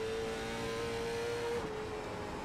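Late model stock car engine in the iRacing video game, a steady sustained drone with a held tone that shifts slightly in pitch partway through, continuous and fairly loud with no talk.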